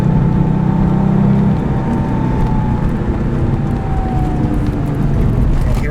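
A Porsche 911 Turbo Cabriolet accelerating hard, its engine note loud and close with a steady rising drone through the run.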